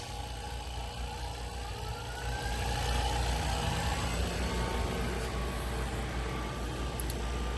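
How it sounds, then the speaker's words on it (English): Circulation blower on a Vacuum Atmospheres HE-43 inert-gas glovebox runs as a steady mechanical drone with a low hum, growing slightly louder partway through and continuing alone. "switch right back to circulate and turn our circulation and the blower on"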